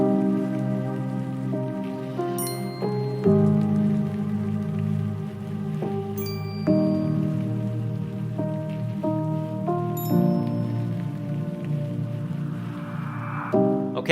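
Rain falls on a car, a steady soft patter of drops on the surface beneath layered sustained music tones, with no one speaking.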